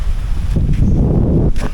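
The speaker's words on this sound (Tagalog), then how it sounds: "Talagang napakainit ng ihip ng hangin dito." Low rumbling wind gusting across the microphone on a beach in Capiz, Philippines, a brief continuous buffeting roar with soft rustling of trees on top.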